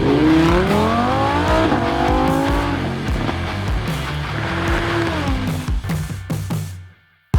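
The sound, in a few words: fast race car driving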